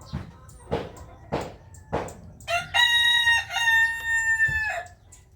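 Large roosters kept as breeders cluck in several short, sharp bursts, then one rooster lets out a long, loud, close crow; no talk is heard.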